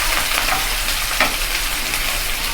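Onion, green chilli and curry leaves frying in a pan, an even close sizzle with light crackles and a soft stir or two, no voices.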